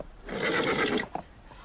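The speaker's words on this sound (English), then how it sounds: "What's wrong with the horses?" A horse neighs once in a loud, close whinny lasting under a second, followed by a short thump and low background noise.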